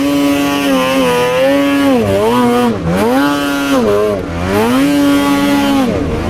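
A snowmobile engine revs loud and close, its droning pitch rising and dipping several times as the throttle is worked, with no break in the sound.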